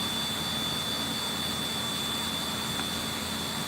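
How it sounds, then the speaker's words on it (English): Military jets passing over near Virginia Beach, a loud, steady roar that fills the whole clip without a break, with no voices heard. "all you hear is them damn military planes"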